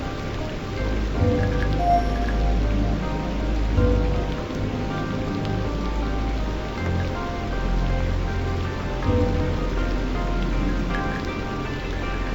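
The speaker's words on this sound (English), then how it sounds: "Heavy rain!" Heavy rain falling steadily in a video game, a dense, continuous hiss and patter of drops, fairly loud with no voices over it.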